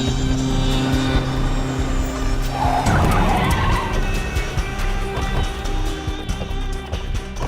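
A car in a movie scene whipping around in a sharp turn, tires squealing and skidding loudly over a revving engine, the screech swelling midway before the motor roars on steadily to the end.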